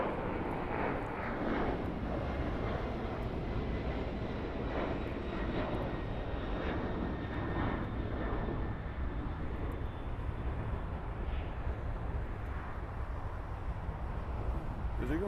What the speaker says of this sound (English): Got a Latam taking off.